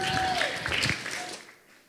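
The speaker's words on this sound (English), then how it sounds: "Let's give him a round of applause." Audience applause rings out after a presentation at a summer campus lecture: a dense wash of clapping for about a second and a half, then it thins and fades toward the end.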